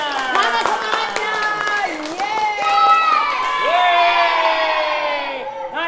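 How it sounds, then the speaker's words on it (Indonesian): A children's audience at a Quran school claps and cheers loudly and close, with bright shrieks and whoops layered over a steady wash of applause. "Mana tepuk tangannya? Mana semangatnya?"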